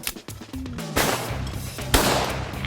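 A shotgun fires two shots, roughly a second apart, at sporting clays on a Texas hunting ranch, each blast loud and close with a trailing outdoor echo.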